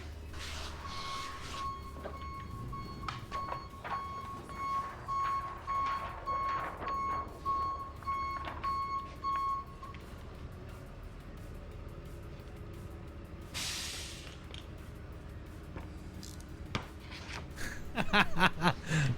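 A truck's reversing alarm beeping steadily at a middle distance while dropping off a storage pod, a regular repeating tone for several seconds over low traffic rumble, then clanks and clatter as the pod is handled.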